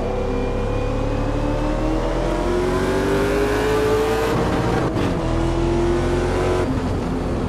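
A Porsche race car on a track day roars close by and rises in pitch as it accelerates to overtake, over the steady drone of the recording car's own engine, with no talking.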